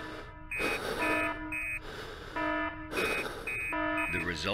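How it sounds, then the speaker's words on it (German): A repeating electronic alarm from the horror video game SCP Secret Files blares in pulsing bursts of steady tones, with someone talking over and between the bursts. "dieser Alarm ist auch sehr beruhigend"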